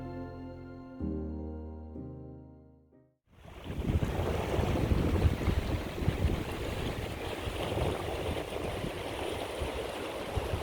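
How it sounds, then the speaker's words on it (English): Strong wind roars across a hiking trail in the Scandinavian wilderness of the Nordlandsruta, a loud, steady, gusting rush buffeting the microphone after a few seconds of soft tonal sound at the start. "The wind is blowing hard right on my face."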